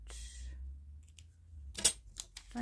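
Scissors fussy cutting around paper ephemera, giving a few short crisp snips and clicks near the end after a quiet stretch, with a low hum underneath.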